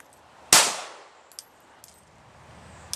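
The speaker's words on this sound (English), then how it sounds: "I'll fire the same single shot," A single handgun shot rings out as one sharp, loud crack with a short ringing tail, followed by a few faint small clicks and taps in an otherwise quiet outdoor space.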